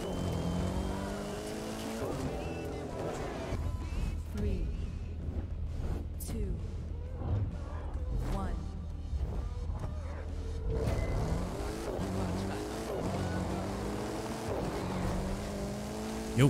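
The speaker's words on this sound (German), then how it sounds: "Bei diesem Rennen fährst du ein Mercedes-Pickup, X-Klasse, genau wie die Konkurrenz." Mercedes X-Class pickup trucks racing in The Crew 2, with a continuous engine drone, shifting revs and occasional tire squeal, under someone talking over the gameplay.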